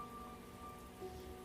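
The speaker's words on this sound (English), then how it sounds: "the rain beat against the windows" Steady rain patters against windowpanes during a stormy night, a soft continuous wash of drops at even, low loudness with a faint tonal hum beneath and no voices.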